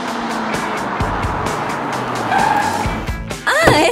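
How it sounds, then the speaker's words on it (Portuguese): A fancy car pulls up at a mansion, its engine and tyres rumbling steadily up close, with a brief skid-like squeal near the end. "é só a Tracy em seu carro super chique parando na sua mansão muito chique"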